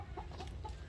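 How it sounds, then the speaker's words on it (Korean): A chicken at a nature kindergarten's farm area clucks softly a few times in quick succession, faint and somewhat distant over low background rumble. "닭이야? 꼬꼬닭이야?"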